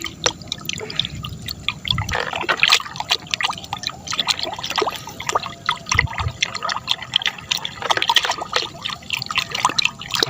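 Fertilizer being stirred into water to dissolve it, with steady liquid sloshing, trickling and dripping throughout, close and fairly busy, with no talk.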